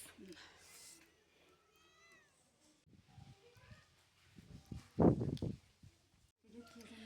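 A cat meows in a home kitchen setting where buttermilk is being served, with short rising cries mixed among household chatter and talking voices nearby, moderately loud and intermittent.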